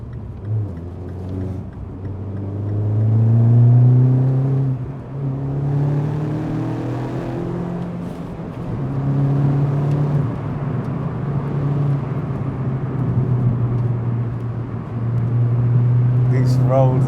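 A 2013-2014 Mini John Cooper Works GP engine revs around 4,500 RPM while driving on winding roads, a rising and falling engine drone with road rumble inside the cabin, and a voice talking over it.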